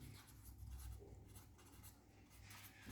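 A pen scratches steadily across paper in quiet close strokes while accounting entries are written out, soft and continuous with small pauses between words.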